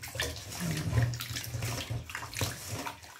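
Dried tuyo fish is washed by hand in salted water in a basin, giving soft close sloshing and splashing with a few brief louder swishes, and no talking.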